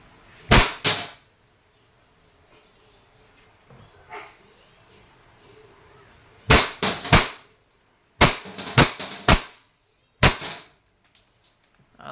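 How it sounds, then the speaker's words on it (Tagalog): A WE Hi-Capa 5.1 T-Rex airsoft pistol fires sharp, loud cracking shots: a double shot near the start, then three quick shots and a few more in uneven bursts, with quiet gaps between. "Hi Kappa T-Rex, this is airsoft pistol."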